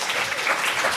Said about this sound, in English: you are giving, I hope, yourselves a round of applause when you clap